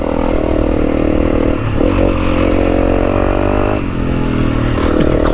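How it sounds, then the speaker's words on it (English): A Honda CRF300L Rally engine drones loudly and steadily as the motorcycle climbs a hill on a mountain track, with slight rises in revs and rattling clatter over the dirt. "The little Honda powers on up."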